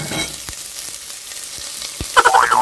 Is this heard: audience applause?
no